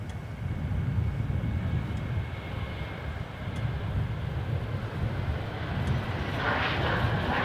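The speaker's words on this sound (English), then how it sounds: "incoming, just about to go over the northern viewing area, is Jetstar 527 in from Sydney" A Jetstar airliner arriving from Sydney passes over the northern viewing area at Melbourne Airport, its steady engine rumble holding at moderate strength throughout.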